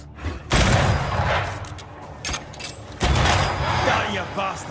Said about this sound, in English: Oh, you want to trade gunshots?